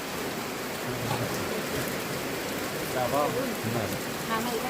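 Steady rain falling outdoors before a new house is entered, a dense continuous hiss of drops with faint voices murmuring in the background.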